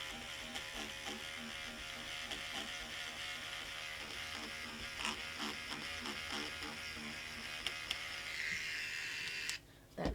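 A Stitch Eraser unpicking satin embroidery stitches gives a faint, continuous electric buzz. Quick scratchy pulses come through as the blade works over the stitching, close and alone, with a brief drop and a louder burst at the very end.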